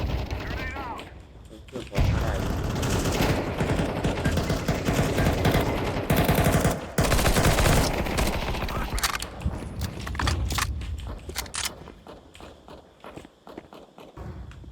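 Gunfire in the CS:GO 2 video game, loud rapid automatic bursts and sharp shots mixed with footsteps, with a person talking over the action.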